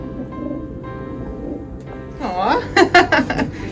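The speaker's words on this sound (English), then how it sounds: "So he's a carrier pigeon?" A pet carrier pigeon gives soft, low cooing calls near the end, following a stretch of quiet room noise with faint background voices.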